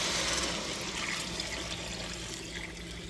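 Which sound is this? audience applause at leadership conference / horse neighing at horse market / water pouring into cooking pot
water pouring into cooking pot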